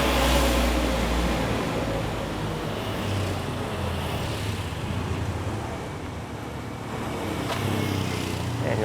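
Motorbikes and other vehicles pass on an island road on Koh Samet, Thailand, a continuous loud engine drone that swells and eases slightly, without talk.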